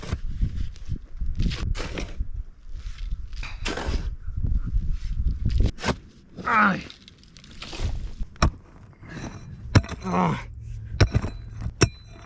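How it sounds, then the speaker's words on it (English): A shovel strikes rock while digging into a rocky bed on a mountainside, giving sharp, gritty scrapes and clanks spaced irregularly at close range, with someone talking between strikes. "We're hitting a ton of rock."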